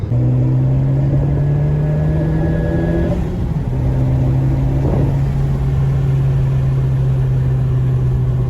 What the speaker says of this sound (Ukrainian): Їдемо коротше, на сільський автобан, поганяти трошки, відвести душу.